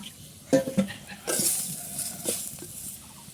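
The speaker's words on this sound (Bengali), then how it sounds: "এই তো ভাতগুলো এখন কড়াইয়ের ভিতরে ঢেলে দেওয়া হলো।" Cooked rice is tipped into a karahi of fried chili, onion and turmeric and stirred at a village hearth, giving soft scraping, clinking and a light sizzle, fairly quiet, with a few brief knocks.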